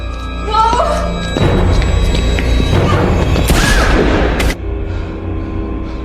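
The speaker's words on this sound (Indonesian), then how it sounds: "Duke lalu mengajarnya dan langsung menembaknya" Gunfire in a zombie film cracks out with booming shots amid a loud, busy scene, and voices are heard speaking around the blasts before the sound abruptly drops away.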